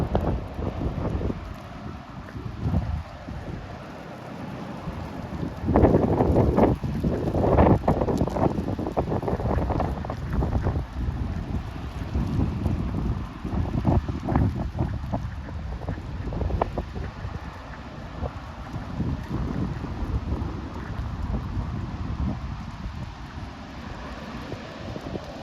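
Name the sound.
strong gusty wind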